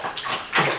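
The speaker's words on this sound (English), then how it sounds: "rinse it and scrub it a little bit." A hair brush is rinsed and scrubbed in water, a brief close splash and swish of water with two quick bursts.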